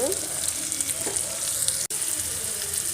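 Shallots, dried red chillies and curry leaves sauté in a pan, giving a continuous close sizzle with soft stirring, broken by one brief sharp click near the end.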